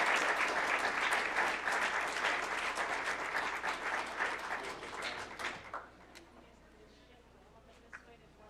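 Applause for award-winning students at a school board ceremony: a full round of many hands clapping that holds strong, then tapers off to scattered last claps and room quiet, with some voices underneath.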